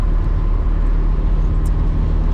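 Fiat 126 small car being driven, a steady low engine drone and road rumble continuing evenly from inside the cabin.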